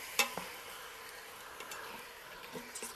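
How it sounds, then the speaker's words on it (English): Quiet, soft sizzling of boneless, skinless chicken thighs in an Instant Pot, with faint stirring clinks and occasional small taps of a utensil against the pot. "You could hear the sizzle."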